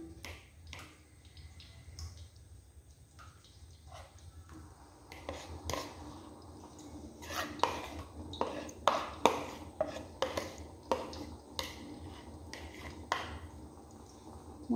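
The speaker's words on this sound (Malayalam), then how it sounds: "ഈ അരച്ചെടുത്തത് എണ്ണയിൽ നന്നായി കലക്കിയെടുക്കണം" A ground leaf paste is stirred into oil in a pan to make a homemade hair oil. A utensil scrapes and clinks against the pan in quick, irregular strokes that grow busier and louder partway through.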